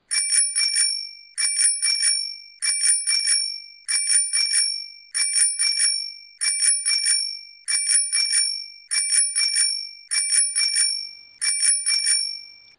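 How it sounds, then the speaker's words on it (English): A single bright bell, rung like a bicycle bell, sounds ten times in even bursts about 1.25 seconds apart, each burst a quick rattling ring, loud and close with silence between strikes. "I have one bell I can just hit 10 times, though."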